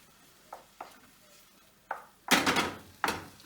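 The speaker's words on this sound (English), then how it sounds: "we're just going to stir that around to combine the sauce with the mushrooms till it loosens up a little bit" A utensil stirs creamy Parmesan sauce with mushrooms in a pan over low heat, making soft scattered scrapes followed by a few louder wet sloshing strokes, close and quiet.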